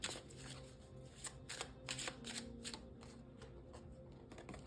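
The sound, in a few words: shuffling tarot cards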